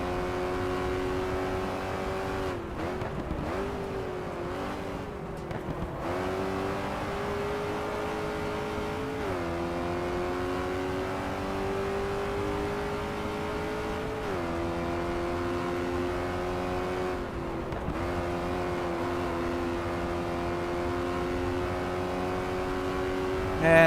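A Ford Mustang race car engine in GT Legends at Silverstone, 1967 layout, drones steadily and loudly throughout, its pitch climbing and dropping through repeated gear changes and revs with no talk over it.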